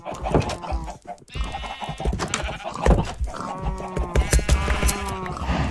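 Sheep bleating in the Minecraft video game, several repeated bleats close and clear over steady game background sounds.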